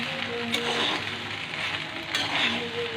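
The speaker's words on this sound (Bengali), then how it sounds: "দিয়ে একটু ভালোভাবে নেড়ে দিতে হবে।" Spicy macaroni pasta is stirred in a hot pan, giving a continuous close frying sizzle with soft scraping from the stirring and a couple of faint clinks.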